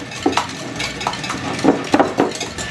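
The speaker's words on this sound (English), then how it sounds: "I'm gonna go ahead and give that a good whisk together" A whisk clatters against a bowl while sour cream and mayonnaise are stirred together, a series of quick, close scraping and tapping strokes in an irregular rhythm, with no talking.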